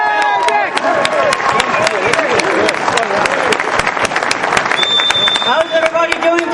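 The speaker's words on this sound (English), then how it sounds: "Big round of applause for Senator Kettle." A rally crowd at an anti in-state tuition event applauds loudly and steadily as a senator is introduced, dense clapping with scattered cheers and a few whistles and voices throughout.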